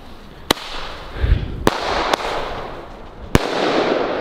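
A small and a large Thunder King firecracker set off together outdoors in mud, heard as several sharp, loud cracks spread over a few seconds against a noisy outdoor background.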